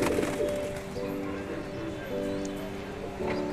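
Dobaz pigeons coo softly and steadily at close range, a low warbling that continues through the whole stretch, with a faint background voice now and then.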